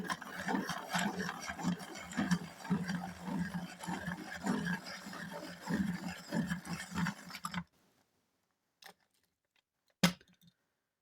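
A wooden pencil from an unusual Chinese brand with a plastic ferrule being turned in a sharpener, giving a steady rasping, grinding whir for several seconds, then stopping, followed by a couple of faint taps.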